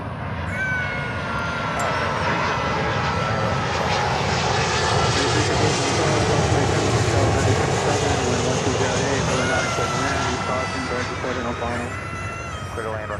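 An American Airlines Boeing 777 airliner comes in to land, its jet engines a loud, continuous roar that holds steady throughout, with voices talking over it.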